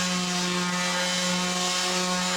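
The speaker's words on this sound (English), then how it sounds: "I have to sand both sides of each panel smooth" Steady, loud mechanical whine of a power sander smoothing the edges of Nidacore honeycomb panels, running continuously, a constant motor hum with no pauses or talk.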